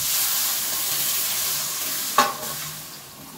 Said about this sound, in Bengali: এবারে দিয়ে দেব আমি পরিমাণ মতো পানি,